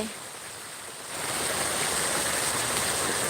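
Water flows steadily with a broad, constant rushing hiss that swells louder after the first second and then holds evenly, with no voices over it.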